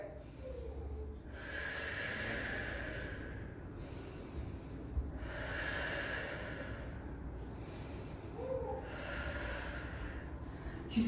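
A yoga instructor's slow audible breathing during a held pose, three long breaths drawn and released in an even rhythm, close and soft with no talk.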